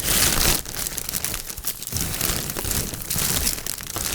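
A plastic big bag of silage being torn open for waiting cows, loud continuous crinkling and tearing of plastic with brief pauses, close to the microphone.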